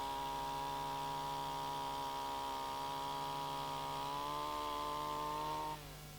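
A portable sleeper drilling machine 11.12 bores into a wooden railway sleeper with a steady, loud motor whine that rises slightly in pitch before spinning down near the end.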